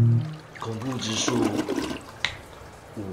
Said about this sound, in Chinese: 他的手就不小心按到了冲水键